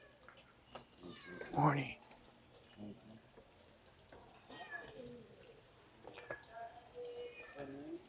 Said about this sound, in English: Find little cats roaming around.